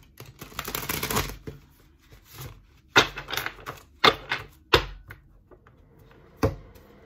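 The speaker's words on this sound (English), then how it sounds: "we're going to pull a card from the Star Child Tarot and then a card from the Amenti Oracle." Star Child Tarot and Amenti Oracle cards being shuffled and pulled up close: a long riffling flutter at first, then a run of sharp, separate card snaps and slaps with quiet gaps between.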